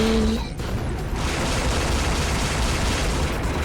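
Grenade blasts from Devil May Cry 2 on PS3 pile into a dense, roaring wall of explosive noise. A brief tone sounds at the start, then the rumble holds loud and steady throughout.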